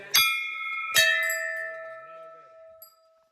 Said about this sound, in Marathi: घंटे हे मला जाम आवडतं का